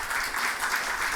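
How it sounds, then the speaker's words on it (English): Brief burst of audience applause at a tech conference talk, a steady, even wash of clapping from a room of listeners with no voices over it. "Big round of applause, please."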